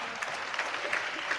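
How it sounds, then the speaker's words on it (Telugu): Audience at a church prayer gathering clapping loudly and continuously, a dense, steady patter of many hands filling the room without pause, with no voices over it. "చప్పట్లు కొట్టాలి గట్టిగా"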